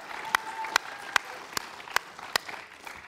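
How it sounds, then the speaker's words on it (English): A church congregation applauds in a broad wash of clapping. Several sharp, close individual claps land at a steady, regular beat above the crowd. "Let's give them all a round of applause"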